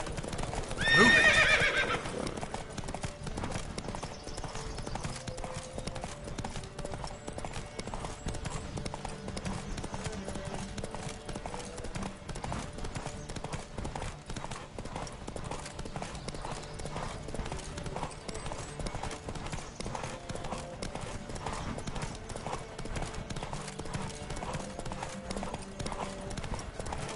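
Horses gallop in a race in The Witcher, rapid hoofbeats pounding continuously with loud neighs and whinnies near the start, and a shouted voice at the outset.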